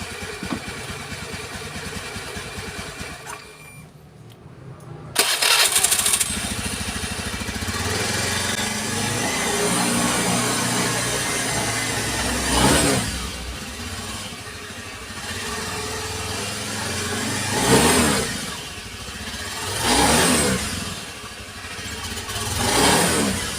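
Motorcycle engine revved slowly while the rear brake is held, loading the rear end during a check for a juddering vibration at pull-away; a steady mid-pitched engine drone runs throughout with several louder rev swells, no talk.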